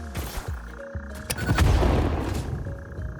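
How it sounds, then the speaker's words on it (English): A bomb detonates in the Satisfactory video game, a deep, rumbling boom that swells and lingers for a couple of seconds after some brief game clatter. "nothing that a little bomb can't cure"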